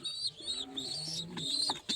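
Several pigeons coo nearly continuously, calls overlapping in soft rolling phrases with a low throaty undertone, close by and moderately loud.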